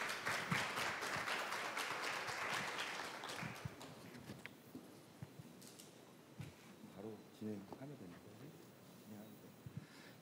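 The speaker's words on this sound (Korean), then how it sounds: "박수로 모시겠습니다." An audience at an academic conference session applauds to welcome a presenter, a full round of clapping that fades over several seconds before a voice begins talking.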